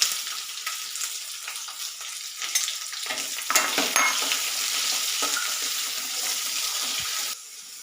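Three chopped onions dropped into hot oil with browned garlic and ginger, frying with a loud, dense sizzle close by and scraped around the pan, a brief tap-water splash mixed in, the crackle settling to a steadier hiss.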